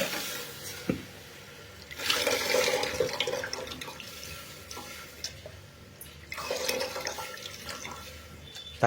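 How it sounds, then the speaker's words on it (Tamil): Strained tamarind juice poured into a pot of pepper rasam, a liquid splashing and trickling in two bursts with quieter dripping between, close by, no voices. "இப்போ ரசத்தை அந்த புளிஞ்சு வச்சு சாறு ஊற்றுறோம்"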